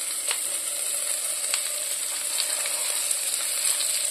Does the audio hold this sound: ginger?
yes